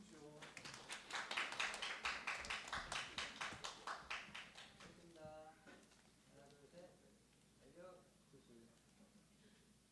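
A church congregation at a high-school youth worship service breaks into brisk rhythmic clapping, loud and close for a few seconds, then giving way to talking and laughter.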